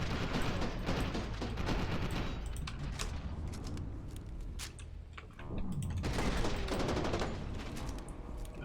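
Sustained gunfire in the shooter game F.E.A.R. 2, dense rapid bursts of automatic weapons and heavy shots filling the whole stretch, loud and continuous with a brief lull midway before the firing swells again.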